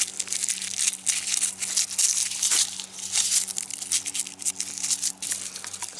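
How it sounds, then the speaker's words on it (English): A hardneck garlic bulb is broken open by hand and its papery skins peeled apart, giving close, dry crackling and crinkling in uneven bursts over a low steady hum, with no talking. "Let me break this one open. You're just peeling it apart."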